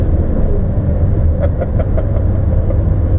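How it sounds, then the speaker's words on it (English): A BMW E30 325is engine runs with a steady, loud rumble throughout, with a few brief rising rev pulses in the middle and no talking. "The fact I can just rev this thing out here"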